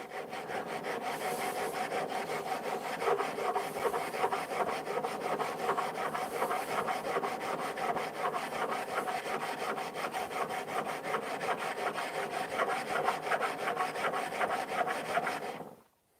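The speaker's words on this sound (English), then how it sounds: "I'll put a diamond stone directly on top of here at the moment. It's just to get it flattened on that chisel" A chisel's back being flattened on a diamond stone makes steady, rhythmic rasping strokes, close and continuous for about fifteen seconds before stopping abruptly.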